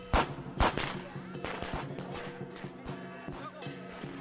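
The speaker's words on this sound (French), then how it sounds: "partout éclatent des pétards ou feux de bengale destinés à écarter les esprits malveillants" Firecrackers burst during Chinese New Year celebrations in irregular volleys of sharp cracks, with a couple of loud pops up front and a dense rattle of smaller snaps trailing after.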